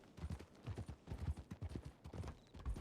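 A horse canters in the Red Dead game on the road to Saint Denis, its rhythmic clip-clop hoofbeats falling in steady, close repeating groups.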